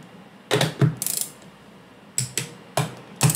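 Ratchet wrench clicking in short bursts while tightening bolts on laser-welded battery cell terminals for a 48V rack-mount battery pack, four or five separate quick ratcheting runs with pauses between, close and fairly loud.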